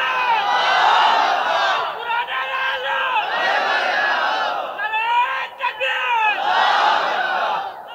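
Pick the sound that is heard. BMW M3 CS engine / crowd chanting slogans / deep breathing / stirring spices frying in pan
crowd chanting slogans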